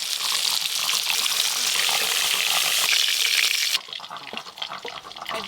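Freshly caught fish shallow-fried lightly in oil, giving a loud, close, continuous crackling sizzle that drops sharply after a few seconds to a quieter, uneven spatter, with no talking.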